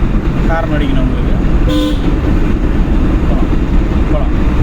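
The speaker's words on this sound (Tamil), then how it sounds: "ஹார்ன் அடிக்கணும் உங்களுக்கு." A car horn toots once during a driving lesson in traffic, a brief clear blast near the middle of steady road noise and engine rumble, with someone speaking nearby.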